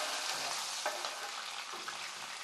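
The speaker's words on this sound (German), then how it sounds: "dann gibt man in Zwiebel dazu und dort einfach schön braun dünsten" Onions fry in oil and butter in a pan, giving a steady, close hiss and sizzle with occasional soft stirring scrapes, continuous and alone.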